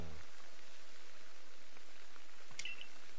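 Rain weather in Pokémon Legends Arceus, a steady soft hiss of falling rain that continues evenly throughout, with a brief bright chime near the end.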